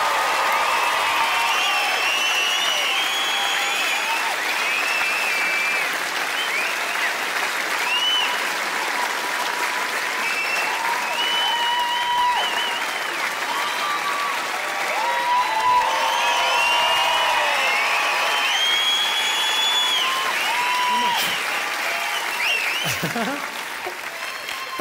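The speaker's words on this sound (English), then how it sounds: "That simple act of applauding, it's everything you work for as a performer, but that noise could drive you mental." Sustained loud audience applause with scattered whoops and cheers fills a Glasgow venue at the close of a stand-up comedy show, steady for about twenty-five seconds before tapering slightly at the end.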